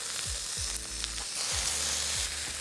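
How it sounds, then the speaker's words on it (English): Loud, steady sizzling of rice noodles frying in a hot wok for beef chow fun, with repeated scraping strokes of stirring at an irregular rhythm. "After another 30 to 40 seconds of stir frying"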